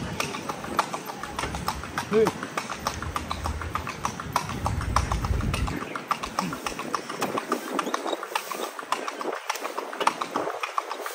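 Horse hooves clip-clopping steadily on the streets of Intramuros, a regular close rhythm of hoofbeats with traffic rumble and people talking underneath.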